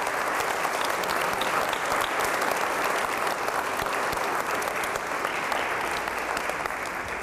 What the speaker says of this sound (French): Bravo, on va les s'applaudir.